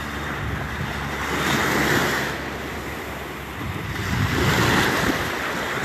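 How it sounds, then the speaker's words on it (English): Ocean waves surge and break on a beach in two broad swells, a steady roar of surf with wind buffeting the microphone and no voices. "I love the sound of the waves."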